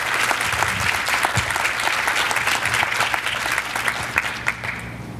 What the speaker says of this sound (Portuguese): Palmas para o Dil,